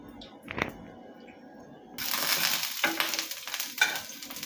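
Chana dal and urad dal hit hot oil and start sizzling, with a loud, steady frying hiss from about two seconds on and brief stirring clinks near the start and middle, with no speech.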